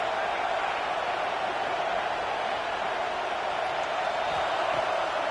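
Stadium crowd noise in a college football video game, a dense continuous roar holding steady and loud through a big third-down defensive moment.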